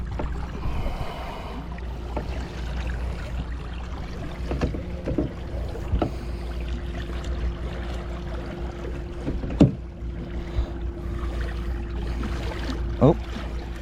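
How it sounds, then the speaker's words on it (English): An inshore fishing boat's trolling motor runs with a low, steady electric hum beneath wind and water noise, with a few scattered knocks and clicks. "Get the trolling motor going."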